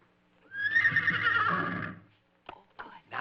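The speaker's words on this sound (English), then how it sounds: "I'm going to send out the horse noises" A horse neighs in one long, loud whinny that rises and trails off over about a second and a half, followed by a few short clip-clop hoofbeats and faint sounds afterward.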